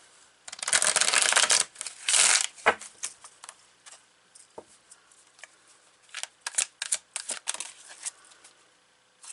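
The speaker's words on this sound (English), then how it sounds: "I'm going to put my little cloth here that helps deaden the sound of the cards" Tarot cards shuffled and laid down on a cloth, two long riffling bursts of papery shuffling followed by a string of softer, scattered snaps and taps as cards are placed, close and crisp with no voices.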